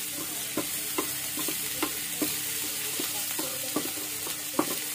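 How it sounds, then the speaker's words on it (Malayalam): Crushed ginger, garlic and green chili frying in hot oil give a steady, close sizzle broken by occasional light stirring clicks against the pan, with no one talking. "ഇതിലേക്ക് നമുക്ക് ആദ്യം ഇഞ്ചി, വെളുത്തുള്ളി, പച്ചമുളക് ചതച്ചിടാം"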